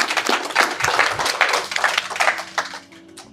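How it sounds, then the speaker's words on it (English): A live audience at an entrepreneurs' panel claps in a dense round of applause that thins and fades over a few seconds, with brief voices mixed in near the end. "Big round of applause."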